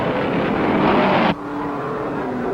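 Race cars at the 1951 Indianapolis 500 roar past close by, a loud, dense engine blare that cuts abruptly to a lower, steady drone.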